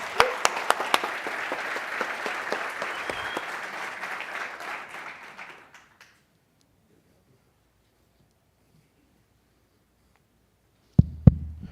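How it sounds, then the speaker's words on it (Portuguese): Conference audience at a business forum breaks into brisk applause with a few sharp individual claps, dying out after about six seconds; silence follows until two loud close thumps near the end. "Uma salva de palmas para o Wilton."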